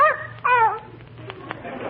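A small dog named Fifi yips and barks a few times in a radio drama, with short high-pitched barks close to the microphone and a quiet gap between them.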